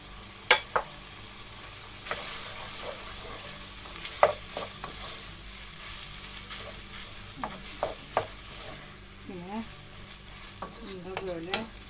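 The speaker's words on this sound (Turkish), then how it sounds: "soğanlar iyice yumuşayana kadar kavuruyorum" Onions are sautéed in a pan until soft for içli köfte filling, giving a quiet, low sizzle with occasional sharp scrapes and taps of a utensil stirring them.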